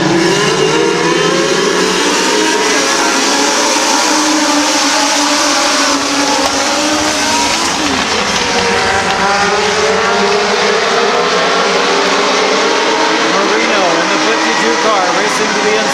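Stock cars race around Midvale Speedway in a steady, loud roar of several engines, with a crowd or announcer voice running underneath the whole time.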